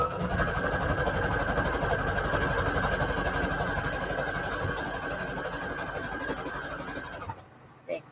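A sewing machine runs a zigzag stitch continuously for about seven seconds, a close, steady whirring motor with a rapid mechanical chatter, then stops abruptly, followed by a brief click.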